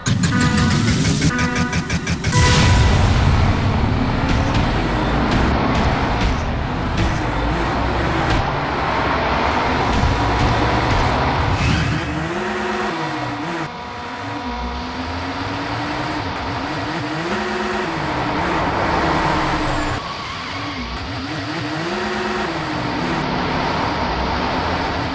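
Race cars in the Hot Wheels Unlimited mobile racing game: continuous loud engine roar and revving over game music, rising and falling with acceleration throughout.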